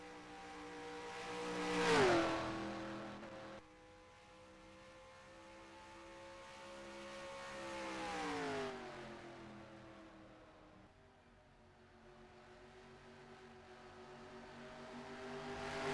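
Race cars of the USORL Lytes Series circle the track at Darlington, engines whining and droning as one car swells loudly past around the second mark and another rises and fades later, with steady engine noise throughout.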